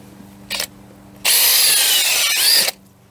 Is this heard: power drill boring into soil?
yes